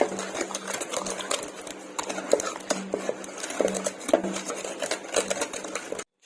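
Spinach dal mashed with salt in a pot, a steady busy scraping and rubbing of a masher against metal with dense rapid clatter, close and continuous until it stops abruptly at the end.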